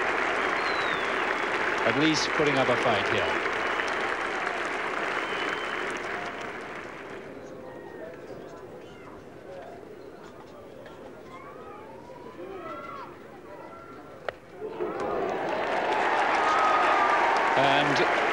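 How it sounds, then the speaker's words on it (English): A Yorkshire crowd at a home Test cricket match cheers and applauds loudly as a batsman reaches a milestone, the applause fading midway under a commentator's voice before swelling again. "To a great cheer from this Yorkshire crowd"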